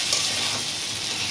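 Gobindobhog rice fries in a pan with a steady, dense sizzle, close and loud, continuous without breaks and with no voices.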